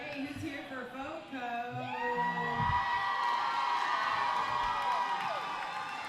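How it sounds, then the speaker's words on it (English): Roller derby crowd at a junior championship bout cheers loudly and steadily, with whoops and shouts rising and holding through the whole stretch, voices mixed into the roar. "And listen to that crowd."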